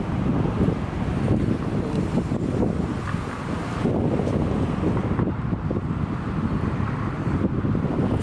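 Wind and surf on Pattaya Beach by the Gulf of Thailand, a loud, continuous rumble of wind buffeting the microphone over washing waves, steady throughout with no speech.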